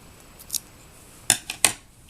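Scissors snip the yarn tail after seaming a crocheted baby bootie, giving three or four short, crisp, close cuts with quiet gaps between them.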